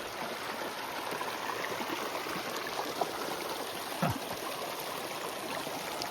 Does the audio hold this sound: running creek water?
yes